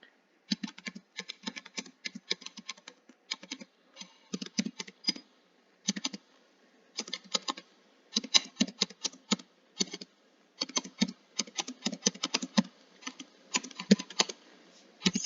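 Code typed on a computer keyboard: bursts of rapid, close key clicks separated by short pauses, alone and fairly quiet.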